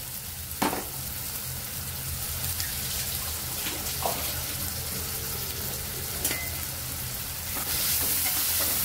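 Onions sizzling in a pan for prawn masala, a steady frying hiss with occasional stirring scrapes and clinks of a spatula, close and continuous with no talking.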